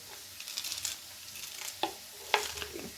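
Whole green cardamom, cloves and cinnamon sizzle in hot oil while a spoon stirs them, with soft crackles, a couple of sharper pops, and light scraping throughout.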